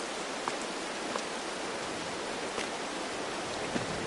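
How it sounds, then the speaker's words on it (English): Rain falling in a farming video game: a steady, even hiss of downpour with a few faint drop ticks scattered through it, continuous and without talk. "And it's raining."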